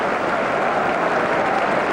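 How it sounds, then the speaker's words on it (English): A football crowd at Anfield, Liverpool, applauds at a Liverpool versus Southampton match, a steady broad wash of clapping heard at a distance, sustained and even throughout. "Southampton sharing in the applause that's resounding around Anfield"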